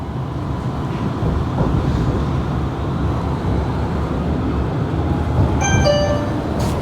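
Steady low rumble of a Sydney tram in motion, nearly empty, heading toward Randwick, with rattling and a brief rising electric whine near the end; no one speaks.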